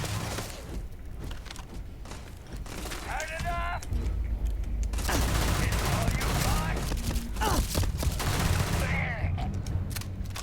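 Gunfire in the sci-fi video game Starfield, rapid bursts of shots with sharp cracks and some shattering, mixed with game effects and occasional voice-like sounds.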